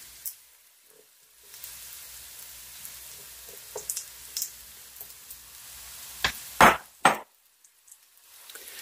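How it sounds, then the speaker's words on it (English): Breaded vegan Mongolian beef pieces searing in a pan, a quiet steady sizzle that rises briefly as pieces are set down, with a few louder clatters near the end. "Now, I'm going to let this sear on one side."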